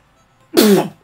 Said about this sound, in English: Either that was a sneeze